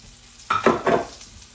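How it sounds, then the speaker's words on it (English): Chicken pieces frying in a pan for chicken parmesan, giving a few short bursts of close sizzling and stirring noise over a quiet kitchen background. "while that's still cooking in here and I can hear it sizzling"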